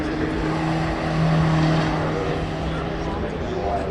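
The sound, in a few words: Cosworth V12 race car with manual gearbox driving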